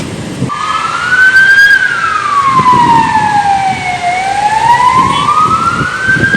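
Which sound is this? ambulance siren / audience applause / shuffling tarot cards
ambulance siren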